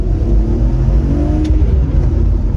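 An early-2000s manual BMW convertible with a 3-litre engine accelerating, a steady deep engine drone that stays loud and constant from inside the car, with no talking.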